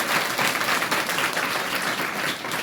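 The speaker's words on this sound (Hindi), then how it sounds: "एक बार सजल के लिए जोरदार ताली होना चाहिए" Dense, steady applause from an audience at a business gathering, honouring a colleague's SPL 12 qualification; many hands clap continuously at an even level throughout, without any speech over it.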